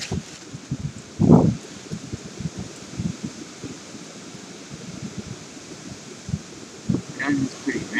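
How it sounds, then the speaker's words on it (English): Strong wind pushes dry leaves along the ground outdoors, a continuous rustling and skittering with scattered louder scrapes, fairly close, over a soft breezy hiss. "The leaves are still flying all over the place."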